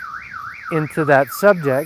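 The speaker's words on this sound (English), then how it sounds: "I just set off a car alarm." A car alarm goes off nearby and loudly, its warbling siren rising and falling and then switching to harsh repeated honking tones while someone speaks briefly over it.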